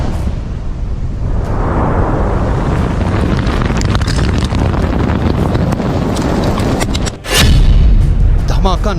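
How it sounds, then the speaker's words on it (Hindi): A heavy, rumbling roar of an incoming missile with wind buffeting, then a sudden loud boom from its blast near the end. "धमाका नंबर 1"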